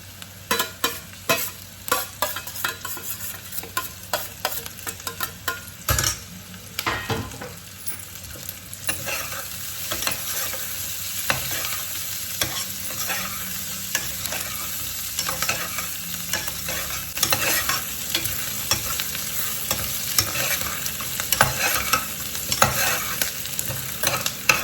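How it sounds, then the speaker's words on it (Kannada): Egg mandi saaru frying in a pan while being stirred: a continuous sizzle broken by repeated scraping and clinking stirring strokes, close and fairly loud throughout. "ಈ ಥರ ಫ್ರೈ ಆದರೆ ಸಾಕು, ಏನು ತುಂಬ ಫ್ರೈ ಮಾಡೋಂಗಿಲ್ಲ"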